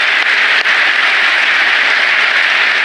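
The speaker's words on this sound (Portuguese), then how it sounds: "fez um sinal para os parlamentares da oposição se levantarem e aplaudirem" Opposition parliamentarians applaud a Trump speech in the US Congress chamber, a loud, dense, continuous wash of clapping from a large crowd, with no talk over it.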